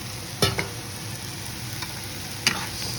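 Rinsed canned red kidney beans stirred around in a cooking pan, with two separate soft utensil knocks against the pan, heard up close over faint background noise.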